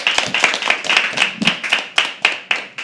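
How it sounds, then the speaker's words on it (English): Steady clapping from an audience at a live poetry open mic, crisp and close, a brisk run of claps with no voices over it. "Can we start clapping for the next performer?"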